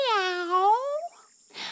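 A human voice imitates a cat's meow with a single clear, rising-and-falling call, then a brief breathy sound after a short pause.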